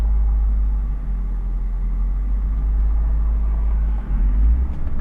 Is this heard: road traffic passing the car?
yes